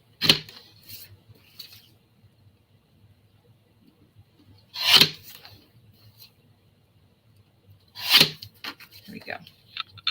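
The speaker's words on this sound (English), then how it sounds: "So let me just trim this up a bit." Scrapbook paper is trimmed with a paper trimmer in three short scraping swipes spaced several seconds apart, close and fairly crisp against a quiet background.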